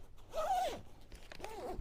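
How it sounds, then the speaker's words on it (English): A zipper is pulled along a dog's sleeping bag in two quick strokes, close and fairly quiet, with a brief pause between them. "I can zip it up."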